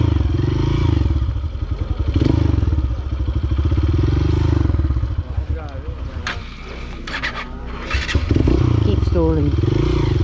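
A motorcycle stuck in mud labours with a rough, uneven engine note that rises and sags and then fades as it stalls, with clattering and scraping thumps near the end.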